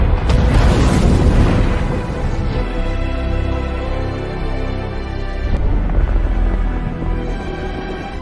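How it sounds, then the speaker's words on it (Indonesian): A missile strikes an island and explodes in a James Bond action film, a loud deep boom with rumbling blast debris rolling on continuously, a second surge partway through, no speech. "melihat rudal menghantam pulau, yang berarti Bond juga tewas dalam ledakan"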